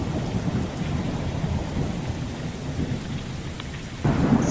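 A thunderstorm with heavy, continuous rain and deep rumbling thunder, a dense roar that swells slightly near the end, with no voices.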